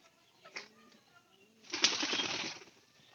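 Pigeons kept at a home loft give faint, soft coos in a quiet setting, followed by a short burst of louder rustling that sounds like flapping.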